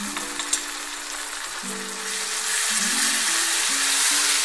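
Garlic-ginger paste frying in a pan for a chicken curry, a broad sizzle that swells and gets louder partway through, heard up close under faint, steady background music.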